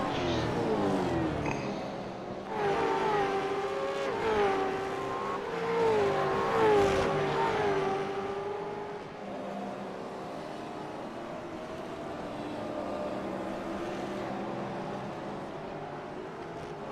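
Race car engines in a racing video game, V8 cars at Long Beach, whine and rise in pitch, revving up and falling away in sweeping layers, loud at first then settling into a steadier drone.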